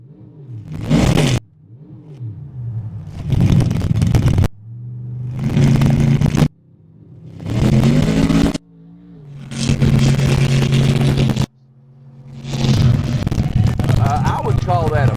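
A truck engine revs hard during a pull at the 4-Wheel Jamboree Summer Nationals, with repeated loud, close bursts of revving separated by abrupt silences.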